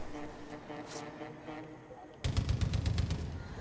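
Burst of rapid automatic gunfire in Far Cry 5, a fast run of sharp, loud shots starting partway through after a quieter stretch of game noise and music.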